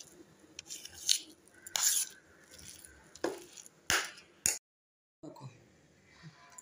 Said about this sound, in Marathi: आता हे मिश्रण सर्व एकत्र व्यवस्थित मिक्स करूया